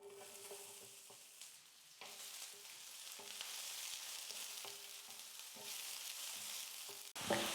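Long-sliced large onion fries in hot oil in a kadai with a steady, quiet sizzle, broken by occasional stirring scrapes. A louder clatter comes right at the end.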